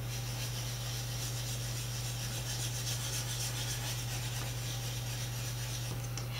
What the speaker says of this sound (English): Or you can use a wooden spoon to burnish.